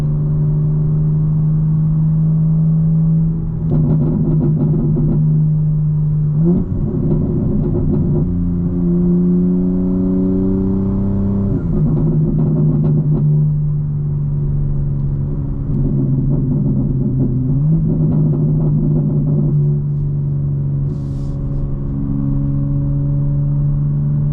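A 2025 BMW M4's engine drones steadily while driving on a clear, dry day, its pitch repeatedly climbing under acceleration and then dropping sharply at each gear change, with no voices over it.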